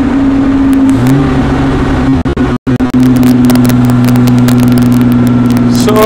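A 1959 Austin-Healey 3000 on the move, its engine droning loud and steady with pitch climbing through gear changes and a brief break midway, close and continuous.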